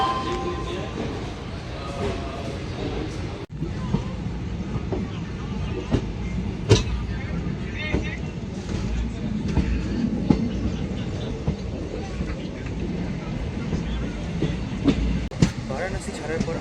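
The 04217 Lucknow Intercity SF Express pulls out of Varanasi station with a continuous rumble and clattering wheels, scattered clanks and squeals. Voices and a faint announcement sit underneath.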